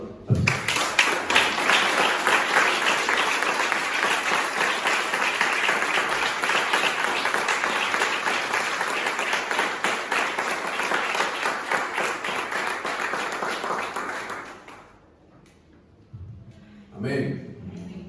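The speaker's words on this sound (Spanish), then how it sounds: "Vamos a dar un aplauso." A church congregation bursts into loud, sustained applause, dense rapid clapping filling the room for about fifteen seconds before it fades, followed by a brief voice.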